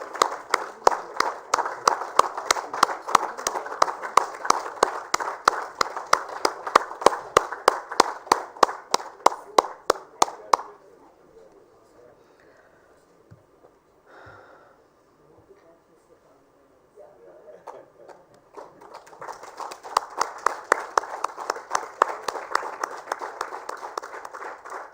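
An awards-ceremony audience at a sanitation awards event applauds, a dense, steady round of clapping that breaks off partway, leaving a quiet lull, then swells back into sustained clapping.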